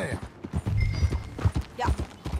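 Horse hooves clip-clop during riding in the video game Red Dead Redemption 2, a steady close rhythm of hoof strikes running beneath talking voices.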